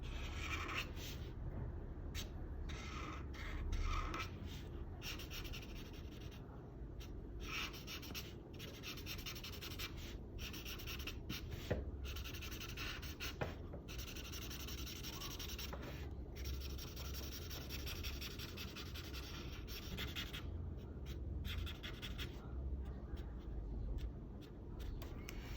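A Brick Brown colored pencil shading a pumpkin drawing makes a soft, continuous scratchy rubbing on paper, close and faint, in short repeated strokes with brief pauses.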